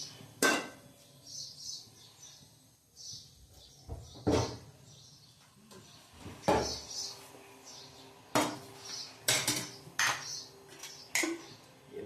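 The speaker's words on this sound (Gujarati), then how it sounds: "એની માટે કઢાઈ મૂકીશું" A metal kadhai set down on a gas stove while cooking paneer butter masala in a home kitchen: several sharp, close clanks and rattles of cookware and utensils, separated by short pauses, with no speech.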